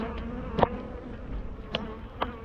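Honeybees buzz steadily around an open hive while wax and propolis are scraped off a top bar, with a few sharper, louder bursts standing out from the continuous hum.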